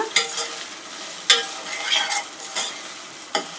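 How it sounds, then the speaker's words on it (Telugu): Curry leaves frying in a pan with ginger-garlic paste, giving steady faint sizzle broken by a few sharp stirring scrapes and crackles. "ఒక రెమ్మ కరివేపాకు వేసుకొని అది కొంచెం వేగాక"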